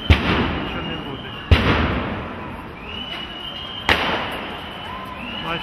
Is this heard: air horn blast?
no